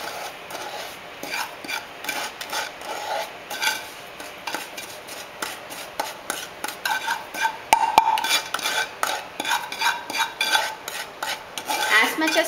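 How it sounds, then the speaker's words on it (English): Cooked rava kesari scraped from a pan onto a plate with a metal spoon, a run of close scratchy, rasping strokes in irregular rhythm, with a few sharper clinks of metal on metal. "Turn off the stove and transfer. I am going to transfer it to a plate."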